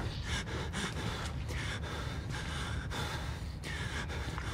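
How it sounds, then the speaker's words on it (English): Heavy, ragged breathing of the player character in the horror video game Outlast, a run of sharp gasping inhales and exhales repeating steadily and close over several seconds with no talk. "This nigga breathing hard."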